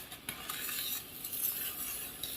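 A spoon stirs elderberry and blackberry jam in a pot on a switched-off stove, with close scraping and soft bubbling sizzle in quick continuous strokes.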